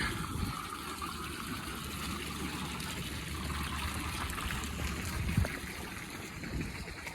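Water features flowing steadily in a resort splash park at the Iberostar Selection Cancun, a continuous soft rushing and trickling wash heard from a short distance, fairly faint and unbroken.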